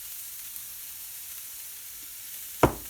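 Vegetables for a Japanese croquette curry sizzle steadily in a pan as a soft, continuous hiss, with one brief louder burst near the end as salt goes in; no one speaks.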